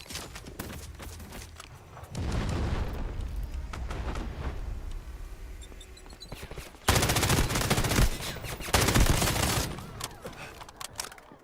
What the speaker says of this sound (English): Grenade launched.